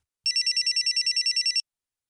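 A telephone rings with a rapid trilling electronic bell, one burst of about a dozen quick pulses lasting over a second, loud and clear, then silence.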